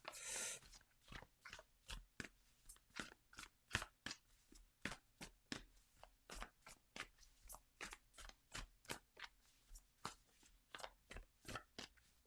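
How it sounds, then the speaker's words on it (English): Repeated crisp riffling and snapping of tarot cards being shuffled, dozens of quick bursts in an uneven rhythm, close and fairly quiet with no talking. "I'm just going to give a quick shuffle through the cards"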